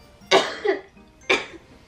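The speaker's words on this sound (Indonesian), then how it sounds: "Batuk-batuk udah kayak kena corona ya." Two separate coughs from a person, close and fairly loud, spaced about a second apart, with no talking in between.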